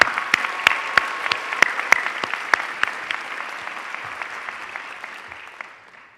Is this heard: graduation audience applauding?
yes